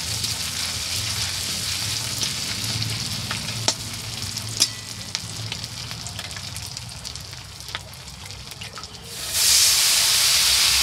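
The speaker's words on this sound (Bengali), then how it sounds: "এবার দিয়ে দেবো হলুদ, দিয়ে দেবো একটু লঙ্কা, দিয়ে এটাকে ভালো করে একটু কষতে থাকবো।" Vegetables sauté in a pan with turmeric and chilli, giving a steady close sizzle with a few sharp stirring knocks. Near the end the frying swells into a louder, brighter hiss.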